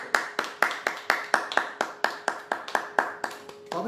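Congregation at a Hindi church sermon claps in unison, about sixteen sharp, evenly spaced claps with a slight ring, fairly close and loud, ending on a brief sustained tone.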